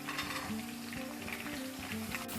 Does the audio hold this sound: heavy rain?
no